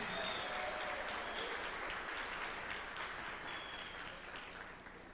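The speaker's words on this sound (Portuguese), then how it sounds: "Uma salva de palmas bem forte para a Rúbia." A church congregation at a Sunday baptism service applauds Rúbia, a steady round of clapping that fades slightly toward the end, with faint tones in the background.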